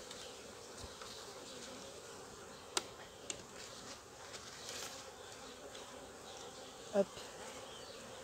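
Honeybees buzzing around an opened hive during an inspection, a steady dense drone close by, with a few soft knocks and a brief voice.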